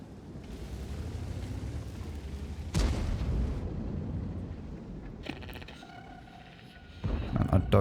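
A Conqueror tank cannon fires in World of Tanks with a heavy boom near the three-second mark, followed by a lingering rumble, faint mechanical rattles and a second loud burst at the end, over a steady low engine drone.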